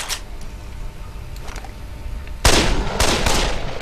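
Rifle bursts in the zombie game Dead Island: a few faint early shots, then from mid-clip a loud, close run of rapid automatic fire with several sharp cracks, with no speech.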